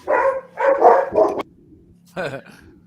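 A dog barks in several quick, close bursts, then pauses before one more bark.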